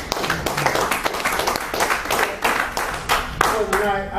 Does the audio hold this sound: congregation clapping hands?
yes